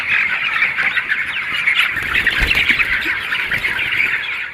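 Chickens on a poultry farm with automatic watering make a dense, nearby chorus of squawks and clucks that overlap constantly with no voices.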